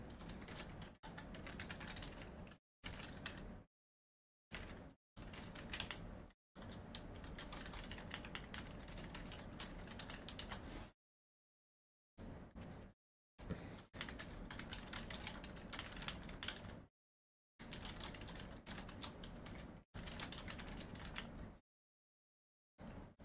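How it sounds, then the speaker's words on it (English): Rapid typing on a computer keyboard, entering a poll: dense bursts of key clatter broken by short pauses, steady and close-miked, with no voices. "I'm typing a poll for you fine people."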